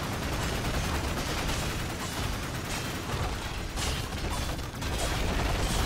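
Rapid dart volleys in the Warframe game, fired by Excalibur Prime at an enemy, form a dense, continuous mechanical rattle of shots with battle noise throughout and no pauses.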